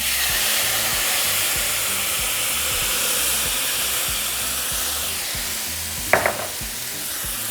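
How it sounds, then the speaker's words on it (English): Tomato broth hitting hot golden frying rice in a pan for Mexican rice, a loud steady sizzling hiss with a short scrape of stirring near the end. "So at this point, we're going to add our tomato broth."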